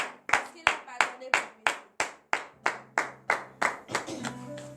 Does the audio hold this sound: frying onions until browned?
no